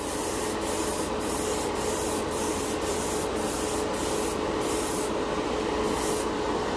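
Urethane paint sprays steadily from a spray gun held close and moved slowly, a continuous broadband hiss with faint rhythmic pulses as passes are made, no talking.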